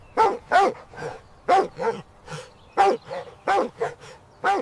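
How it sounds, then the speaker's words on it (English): A dog barks repeatedly in close, sharp pairs and short bursts, about a dozen loud woofs with small gaps between them. "Dog."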